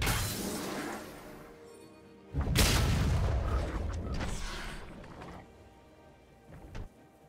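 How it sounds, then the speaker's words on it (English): A turret crumbles in League of Legends, heard as a sharp crash and heavy rumbling burst amid ongoing game effects, loud and close before fading back to background sound. "Blue team's turret has been destroyed."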